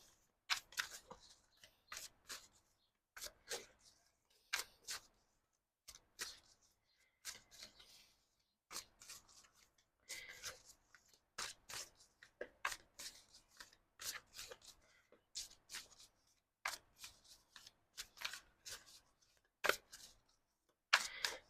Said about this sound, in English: let's give a little shuffle